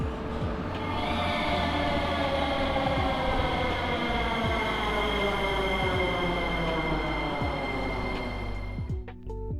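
A Sofia metro train carries passengers toward the airport, a loud steady rumble and whine of the moving carriage with rhythmic clacks over the track joints, slowing near the end.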